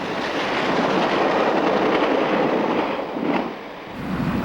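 A B&O E8 diesel locomotive hauls the Cincinnatian passenger train between Detroit and Cincinnati, a steady loud rumble and roar of engine and rolling cars close by, with a brief swell near the end.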